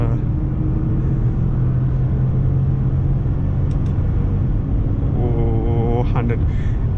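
A Toyota Land Cruiser V8 accelerates hard at speed, a steady heavy engine drone and road rumble heard from inside the cabin, with people talking over it.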